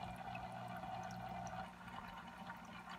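Water splashing and trickling steadily from an aquarium hang-on-back filter pumping water back into a freshwater fish tank, a continuous close, moderately quiet flow with no talking.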